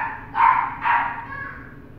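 Small crossbreed dog barking twice in quick succession indoors, a short loud yap followed by another, with a faint whine trailing after.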